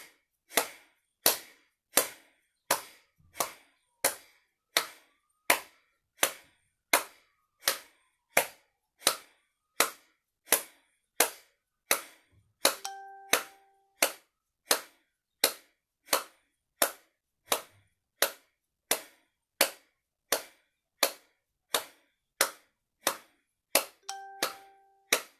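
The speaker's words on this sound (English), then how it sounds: "So we're going to do that with the clap." Evenly spaced hand claps keep a steady beat, roughly one per second, loud and crisp with nothing else in between, set within a guided breathing and meditation exercise.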